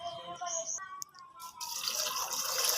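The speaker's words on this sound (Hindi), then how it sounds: "इसके साथ ही मैं इसमें पानी ऐड कर दूँगी।" Water poured into a cooking pot holding beef and whole spices such as cardamom, black pepper and cumin for korma, rising into a steady rushing splash over the second half after brief clinks and a voice.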